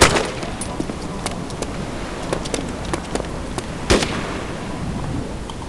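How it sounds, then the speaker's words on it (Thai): Gunfire in the survival video game DayZ: several sharp, loud cracks spaced irregularly over a steady hissing background, with one especially strong shot near the end. "ยิงมันเลย ขอยิงขอยิง"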